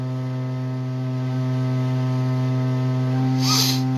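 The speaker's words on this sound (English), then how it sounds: "That boiler's screaming its head off again." A kitchen boiler in a housing association home drones with a loud, steady electrical hum and strong harmonics throughout, with a brief hiss near the end.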